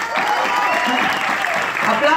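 A theatre audience applauding the cast at a milestone performance of the play Dos más dos, dense continuous clapping throughout, with a voice talking over it.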